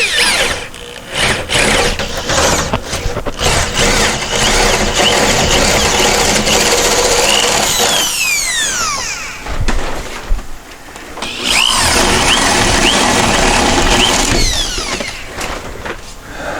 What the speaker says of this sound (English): We'll start out by just drilling a hole in each corner.